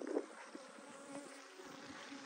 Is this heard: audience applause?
no